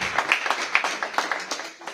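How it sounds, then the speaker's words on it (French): A church congregation breaks into brief, lively applause in praise during a French-language sermon, with sharp distinct claps close by over a quiet room. "on peut applaudir le Seigneur"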